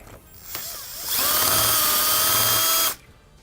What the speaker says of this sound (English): either use a reamer to ream it out to the next largest size, or use a unibit